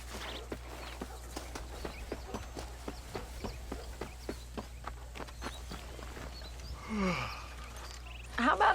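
Horse hooves clip-clop steadily on the ground in the Red Dead Redemption video game, an even walking rhythm of sharp, fairly close knocks over a low hum, followed by brief character speech near the end.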